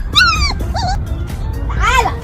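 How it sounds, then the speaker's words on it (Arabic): A cat meows three times: two quick, rising-and-falling mews close together, a pause, then a longer, louder meow over a low background rumble. "لا دي قطة"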